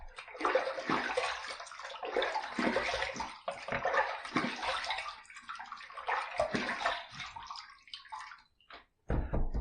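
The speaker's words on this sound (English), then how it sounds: "All right, let's rinse." Water splashes in a sink as a face is rinsed after a shave, repeated close bursts of splashing and running water in uneven handfuls, ending with a few sharp drips.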